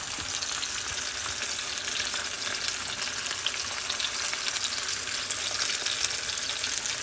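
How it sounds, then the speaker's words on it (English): Yellowfin ahi tuna sears in a little avocado oil, a steady close hiss and crackle of frying that holds evenly throughout, with no voices over it. "we're just searing it in a little bit of avocado oil"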